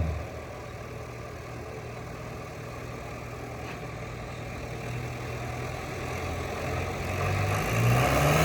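A steady tractor engine idles close by at a tractor trolley-pulling contest, a low continuous rumble that grows slightly louder toward the end.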